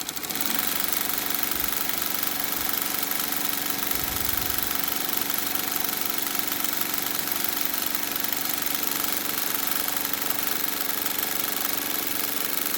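An industrial sewing machine stitches a shoulder strap at high speed, around 2,000 stitches a minute, making a steady, continuous mechanical whir with a constant hum that runs unbroken throughout.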